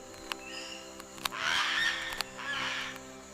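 A palm cockatoo, one of the largest cockatoos, gives strange, almost human-sounding calls: a longer rising squawk and then a shorter second call, fairly faint and set among a few sharp clicks.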